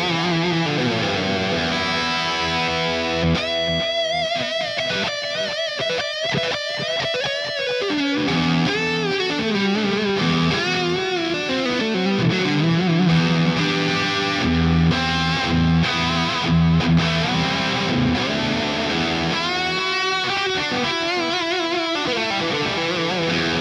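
A guitarist plays an electric guitar through a Tube Screamer overdrive pedal, giving a loud, continuous stream of gritty, saturated notes and sustained chords for over twenty seconds with no talking.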